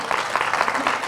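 An audience claps steadily throughout a speech, the applause dense and continuous for a brief stretch.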